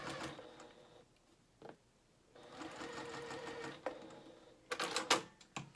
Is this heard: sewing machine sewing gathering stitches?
yes